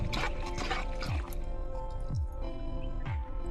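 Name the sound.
stirring liquid mixture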